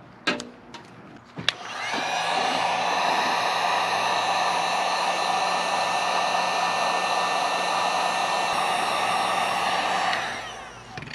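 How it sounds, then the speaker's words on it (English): A heat gun blows hot air onto dry sticker adhesive on a Kioti tractor, switching on after a few clicks and handling knocks into a loud steady whine and rush of air, then winding down near the end. "get the heat gun out and that'll loosen up this adhesive quite a bit"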